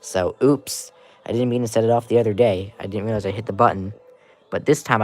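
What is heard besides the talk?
No everyday noises stand out.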